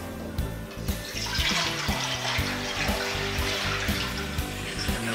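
Water poured into a kadhai, a wide metal Indian cooking pot, to boil potatoes for french fries: a steady splashing, rushing pour with some clatter, close and fairly loud, with no talking.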